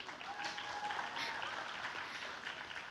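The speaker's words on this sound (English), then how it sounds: "Clap for Bansri." Faint, steady applause from the audience at an Arangetram classical dance recital, honouring the dancer Bansri; a continuous, distant-sounding patter of many hands.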